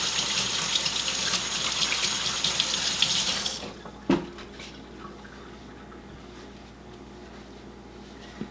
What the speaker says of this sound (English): I'll give my hands a little rinse here.